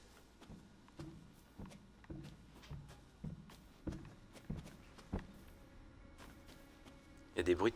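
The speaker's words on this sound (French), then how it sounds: "Il y a des bruits de pas." Footsteps in the video game Resident Evil 7, a steady run of soft thuds at an even walking pace under a quiet ambient background, ending in a brief louder clatter.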